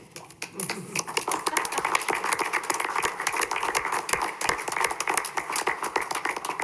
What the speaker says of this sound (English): Now we applaud.